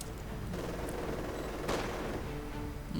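Battle gunfire from the Company of Heroes 2 video game rattles continuously, dense overlapping rifle and machine-gun bursts with one louder crack midway, all at a moderate distance.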